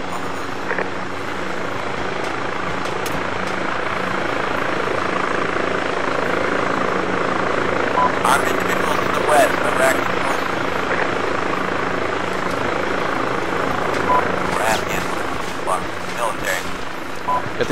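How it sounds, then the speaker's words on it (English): Helicopter from the video game Arma 2 holds a steady, loud rotor and engine drone throughout, with faint shouted voices and scattered impacts over it. "Helicopter is taking fire from the west, other side of the compound. Set it down in here"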